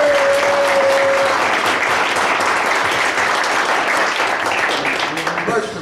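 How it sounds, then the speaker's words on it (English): Audience applause at a legal panel discussion, loud and continuous clapping that gradually thins out toward the end, with a brief tone and faint voices mixed in. "give yourselves a round of applause"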